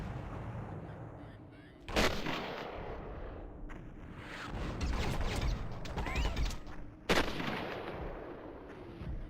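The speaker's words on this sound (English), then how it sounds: "it's a ballistics rifle" A ballistics rifle fires in the sci-fi shooter FireWarrior, a few heavy, booming shots set against a rumbling space-battle backdrop of mechanical noise and clatter, loud and close.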